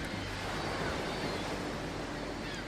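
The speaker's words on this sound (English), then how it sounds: "The sounds of the crashing waves to guide us" Ocean waves crashing in Baldur's Gate, a steady, dense wash of surf noise filling the whole stretch evenly, without distinct breaks, like continuous rolling water heard from nearby.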